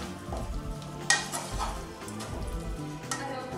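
Shallots are stirred into a caramelizing mixture in a pan, with close scraping strokes and a soft sizzle running underneath, and no voices.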